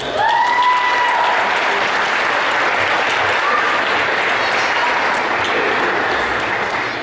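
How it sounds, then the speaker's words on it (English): An audience at a steak fry charity event applauds loudly and continuously, dense close clapping with a few faint whistles near the start. "How about a round of applause for that?"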